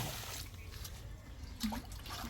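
Water trickling back into a pit after it was emptied with a motor pump, a steady low wash of running water with a faint splash partway through.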